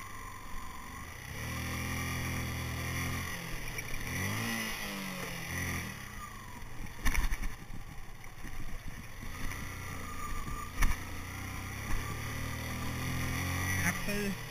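A motorbike engine held in second gear on a mountain ride around Manali, humming steadily with a few surges of revving, while a rider talks over it.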